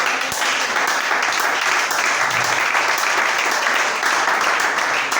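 A church congregation applauds in steady, loud, continuous clapping that fills the room for several seconds without letting up, with a faint low rumble underneath.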